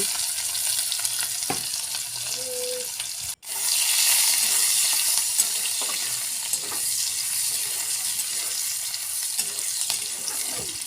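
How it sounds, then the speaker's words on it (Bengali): Onion and garlic fry in hot oil, giving a loud, continuous crackling sizzle with occasional stirring scrapes, close and without voices, with one brief dropout early on. "এবার পেঁয়াজ রসুন দিয়ে কিছুটা ভাজা ভাজা করে নেব"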